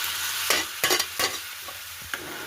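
Lentil dal frying in a pan under a steady sizzle, punctuated by several close scraping strokes of a spoon stirring it, irregularly spaced over the short stretch.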